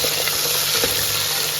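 Onions frying in a pot for veg kushka, a dense continuous sizzle with faint stirring taps underneath, close and steady without speech.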